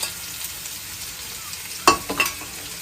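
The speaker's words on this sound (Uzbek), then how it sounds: "Piyozni solaman." Onion dropped into hot oil in a kazan for a Uyghur dish, a sudden loud sizzling burst near the end followed by a couple of smaller crackling bursts over a steady background hiss.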